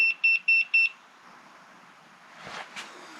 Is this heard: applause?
no